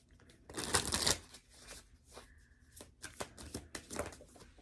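Tarot cards riffled and shuffled in a quick burst, then a few softer slides and taps as cards are drawn from the deck, close and fairly quiet with no talking.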